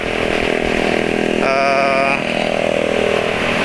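Motorcycle engine running on BP petrol, a buzzy, steady drone heard up close, with a brief rise in pitch partway through before it settles back.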